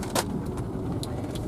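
A car travels a winding mountain road in Arkansas, its steady low engine and road rumble filling the cabin, with a few brief clicks and rattles from inside the vehicle.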